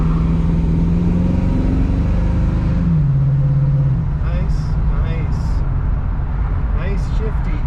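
A 1970 Mustang with a newly installed overdrive transmission drives steadily, its engine note dropping in pitch around a gear shift partway through, with faint higher chirps and a voice speaking over the cabin drone.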